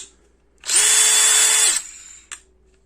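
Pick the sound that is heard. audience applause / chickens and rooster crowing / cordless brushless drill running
cordless brushless drill running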